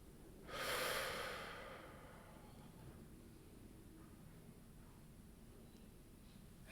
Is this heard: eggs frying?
no